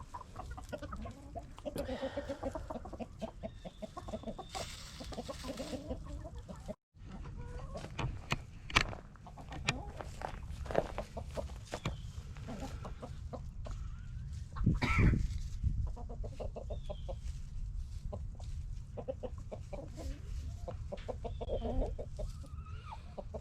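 Chickens from two merged flocks cluck and murmur continuously around a new chicken yard, close and moderately loud, with occasional sharper squawks and a brief gap partway through.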